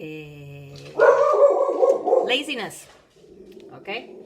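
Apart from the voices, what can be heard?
dog barking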